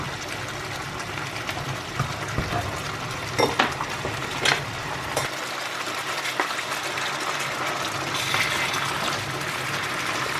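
Fish for a curry cooks in a pan on medium heat, a soft steady sizzle running throughout with a few light clinks and stirring sounds, fairly quiet and close.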